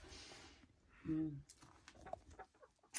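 A Dominant or Hisex laying hen gives one short, moderately loud cluck among faint rustling and scattered small sounds.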